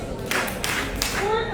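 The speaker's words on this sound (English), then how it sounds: "If you can hear me, do 3 claps" An audience at an indoor convening claps in response to a call, with a few sharp hand claps spread across a short stretch over room noise and faint voice.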